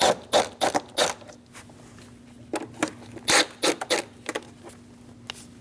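A socket wrench works on the intake clamps of a Dodge Durango engine bay. It gives a run of short, sharp ratcheting and scraping bursts in irregular clusters, close and fairly quiet.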